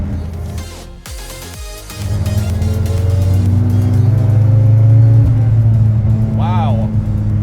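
A 550whp Nissan S14.5 240sx engine revs loud and close, with a few sharp blips, then a sustained smooth rising rev held at part throttle, while people talk around it.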